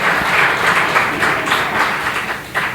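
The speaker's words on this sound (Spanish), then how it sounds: "Dele un fuerte aplauso al Señor" A church congregation breaks into steady, full applause for the Lord during a worship message, a dense wash of many hands clapping with no speech over it.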